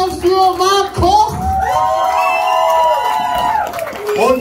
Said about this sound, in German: Einen großen Applaus an alle Künstler, die heute hier waren